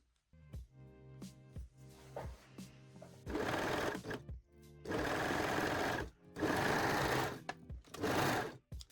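A sewing machine stitches seams in mesh fabric, starting with a few slow, separate needle thumps, then running in several long, loud, steady bursts with short pauses between them.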